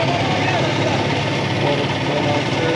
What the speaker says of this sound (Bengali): এইমাত্র একটা ট্রলার আসলো